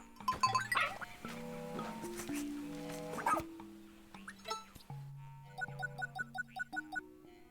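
A dog companion in Pikmin 4 gives a string of short, sharp synthesized barks near the end, following a bright run of tinkly game music and chimes.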